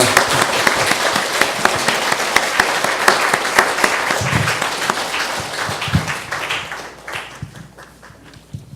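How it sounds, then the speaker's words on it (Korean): A church congregation applauds in celebration at a building dedication and ordination thanksgiving service, steady dense clapping filling the room before tapering off toward the end. "축하의 박수 드리기 바랍니다."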